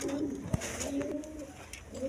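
A pair of white shorting pigeons coo softly in a loft, a low rolling murmur that repeats through the clip with a brief knock near the start.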